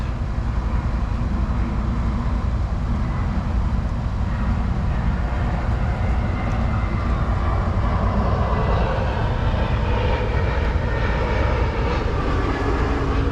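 A jet airplane passes over near DFW airport with a loud, continuous engine roar that swells gradually and holds steady throughout, with no talk over it.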